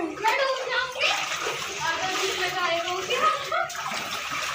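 Water splashes and sloshes around people's feet as they wade through a flooded cave temple, with continuous nearby splashing under overlapping voices, including children talking.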